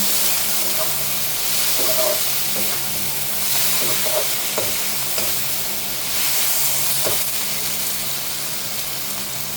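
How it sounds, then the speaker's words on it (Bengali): Tangra fish with taro stolons sautés on medium heat, a loud, dense sizzle and hiss with occasional stirring scrapes throughout. "চুলার আঁচ মিডিয়ামে রেখে ভালো করে কষিয়ে নেব।"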